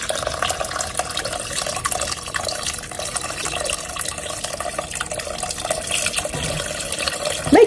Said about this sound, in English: Now I'm going to go in with my chicken broth and water.